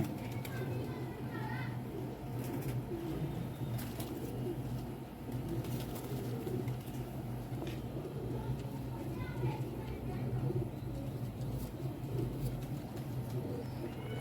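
Large domestic pigeons kept by fanciers coo in a low, continuous murmur, with other bird calls and steady background noise filling the scene.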